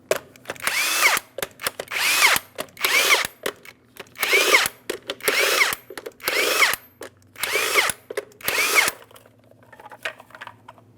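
An impact power tool with a 22mm socket removes lug nuts from a 2007-2014 GMC Sierra 2500 HD wheel, sounding in about nine loud, close bursts of rapid hammering buzz separated by short pauses, with no talking.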